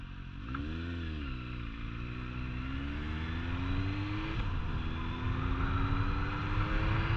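A new Suzuki GSX-S 750 motorcycle being ridden away from the dealership, its engine droning steadily with rising and falling revs as it shifts through gears, close and continuous.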